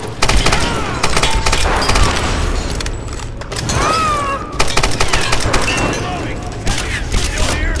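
Rapid gunfire from the 2013 Tomb Raider video game, with dense bursts of shots and booms filling the clip alongside mechanical clatter and a voice groaning in the mix.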